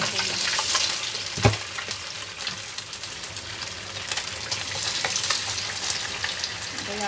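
Tofu frying in a pan with oil, a dense steady sizzle and crackle close up, with a brief clatter partway through and faint talk in the background.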